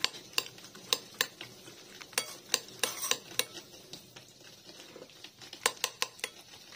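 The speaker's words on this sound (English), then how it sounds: "let's mash the banana and mango" Banana and mango being mashed in a bowl for tropical fruit yogurt, heard as a series of sharp, irregular clinks and taps of a utensil against the dish, close and fairly crisp, with short gaps between strokes.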